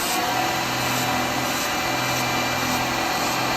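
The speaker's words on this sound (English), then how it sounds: "I'm just going to start this up for a minute and just give it a little burnish" Wood lathe spinning a turned piece of rotten tree branch while it is burnished, giving a steady, close, broadband whir and hum that holds constant throughout with no talking.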